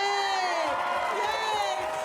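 A live comedy audience in Sydney bursts into loud cheering and whooping, a dense close crowd roar lasting a couple of seconds.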